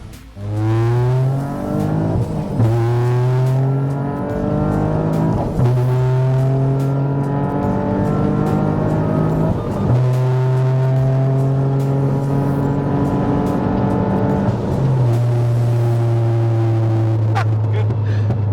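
Toyota GR Yaris pocket rocket with a flame-throwing exhaust accelerating hard through repeated gear changes, each shift rising in pitch, loud and close with sharp crackles between pulls.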